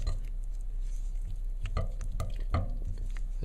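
Melted chocolate being stirred with larger seed chocolate pieces while tempering, giving soft scraping strokes and a few light clinks against the bowl, steady and close, with no voices.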